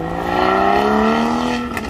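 A car pulls away from a large car meet with a loud, close engine note that climbs steadily in pitch as it accelerates, then eases off at the end.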